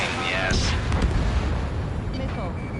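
A missile detonation in the Ace Combat 7 combat flight game lands as a deep, rumbling boom with a sharp burst near the start. It sits under radio chatter and game noise.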